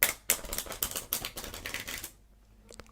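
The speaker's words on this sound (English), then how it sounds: "So you do the riffle shuffle with their card being the first card, like that." A deck of playing cards being riffle shuffled, giving a close, quick flutter of crisp card clicks for about two seconds that then stops abruptly.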